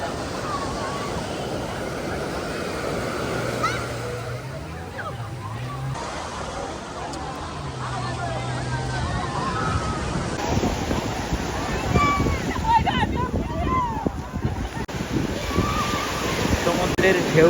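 Surf breaks along the beach at Cox's Bazar, a broad rushing wash of waves and wind that swells louder toward the end, with a person talking over it.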